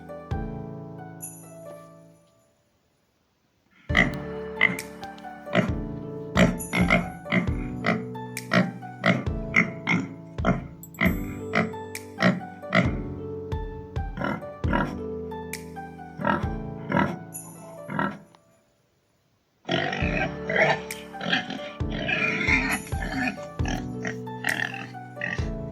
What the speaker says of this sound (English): The pig grunts.